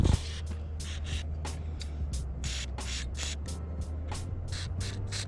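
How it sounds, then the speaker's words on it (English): A can of WD-40 sprays onto a tight headlight screw on a C5 Corvette, giving a steady close hiss broken into about a dozen short rhythmic bursts. "I'm gonna get some WD-40 first."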